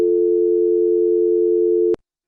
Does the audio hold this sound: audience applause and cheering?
no